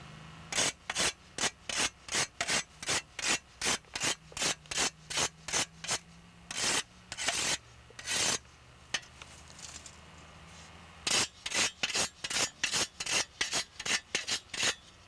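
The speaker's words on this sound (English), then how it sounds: "this comes out of the museum, and I'm going to sharpen it right now." An old museum harvest hand implement blade is sharpened with quick, rhythmic rasping strokes, close and fairly loud, broken by a short pause midway before the strokes resume.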